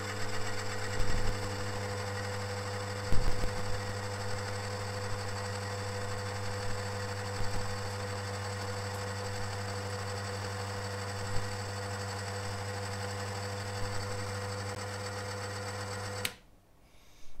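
A friction wear test machine runs under a 1 kg load on a ball, giving a steady loud mechanical hum and whine with a few knocks, then it stops abruptly near the end.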